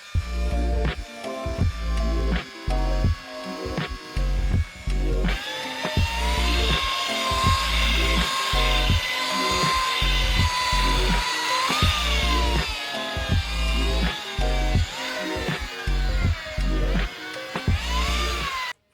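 A machine polisher with a black soft pad and G10 compound works over a car wing sprayed with rattle-can paint. Its close, whining motor drone pulses rhythmically and rises in pitch partway through.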